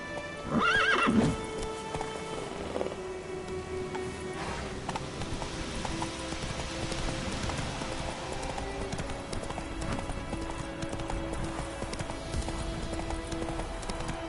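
A horse named Roach breaks into a gallop, a loud whinny up front followed by steady rhythmic hoofbeats that continue at a moderate distance over a busy background.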